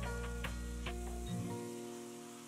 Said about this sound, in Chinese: 炒香后把红椒丁加进来，翻炒至红椒丁断生